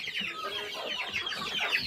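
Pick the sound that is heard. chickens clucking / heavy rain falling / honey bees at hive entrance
chickens clucking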